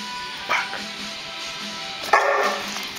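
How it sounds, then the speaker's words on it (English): A dog wearing a cone barks twice, short sharp woofs spaced about a second and a half apart, close and moderately loud over a quiet indoor background. "Bark."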